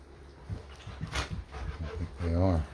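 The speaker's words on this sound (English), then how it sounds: "Oh, the dogs are playing in the next room." Dogs play and roughhouse in the next room, with scuffling, panting and short whines or yips rising to a louder vocal burst near the end, fairly close and clear.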